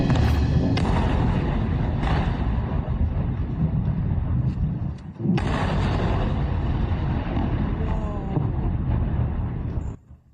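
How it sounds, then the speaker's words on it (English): An Iranian missile strikes a U.S. airbase in Jordan, producing a sustained heavy roar of explosion and rumbling blast noise, then a second powerful boom at mid-point, loud and distant-sounding, which cuts off abruptly at the end. "an Iranian missile hit a U.S."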